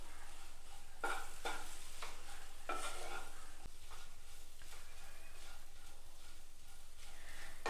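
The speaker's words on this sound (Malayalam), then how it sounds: "ഇനി ഇതിലേക്ക് നമുക്ക് ചിക്കൻ സോസേജ് ചേർത്ത് കൊടുക്കാം. എല്ലാം കൂടി ഒന്ന് മിക്സ് ചെയ്ത് കൊടുക്കാം." Chicken sausage is stirred into cooked masala in a pan, with faint scraping spoon strokes at an uneven pace over a low, quiet sizzle.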